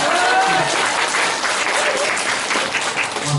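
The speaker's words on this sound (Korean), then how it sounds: "박수 한번 우리 보내고 다시 시작" Audience members at a mayoral campaign press conference clap together in a brief, fairly loud burst of applause, steady and close, with a faint voice or tone briefly audible near the start.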